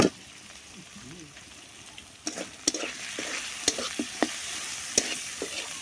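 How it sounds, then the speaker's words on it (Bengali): Spice paste of ground spices, ginger-garlic paste, salt and green chillies sizzles steadily in hot oil, with sharp scraping clicks from a spoon stirring it at irregular moments, close by. "মশলাটা এখন ভালো করে কষাই নিব একটু তেলে ভাজা"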